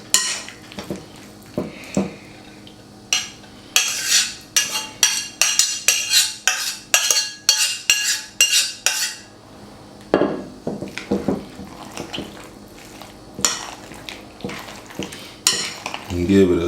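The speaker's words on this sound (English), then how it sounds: "I'm going to add the remaining of my macaroni to my macaroni and cheese mixture" Cooked macaroni stirred into a cheese mixture in a cast iron skillet: a spoon scrapes and knocks against the iron in a quick rhythmic run of clanks, then slower wet scraping and stirring, close and clear.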